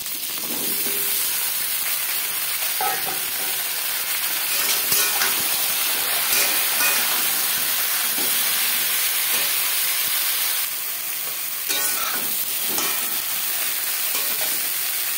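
Pumpkin sizzles and hisses in hot oil with five-spice and bay leaf, a steady, close frying crackle with occasional stirring scrapes and no talk.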